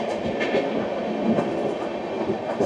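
Sealdah-Bikaner Duronto Express running near Tundla Junction in Uttar Pradesh, a steady close rumble of rolling carriages with faint rhythmic clatter of wheels over rail joints throughout.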